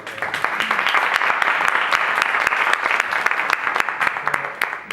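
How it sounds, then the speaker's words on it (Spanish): Conference audience in Bilbao applauding, a sustained, even wash of many hands clapping throughout, fairly close and without speech. "Un aplauso para ellas."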